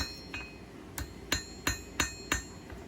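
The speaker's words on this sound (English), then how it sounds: "There was a ragged edge from the chisel, and that has to be hammered back down flat." Hammer blows on hot steel at a coal forge, flattening a ragged chisel edge on thin stock: six sharp, ringing strikes, then a steady series of evenly spaced blows, close and fairly loud over a low background rumble.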